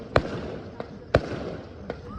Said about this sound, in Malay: Mercun tak henti-henti berbunyi sampai ke lewat malam.